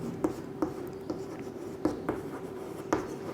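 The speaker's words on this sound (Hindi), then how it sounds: "अब यहाँ पर अगर मैं किरचॉफ का नियम लगाऊं तो मैं लिख सकता हूं कि किरचॉफ के" Pen strokes while writing a physics equation, several soft taps and scratches in an uneven rhythm, close and quiet, with no talk over them.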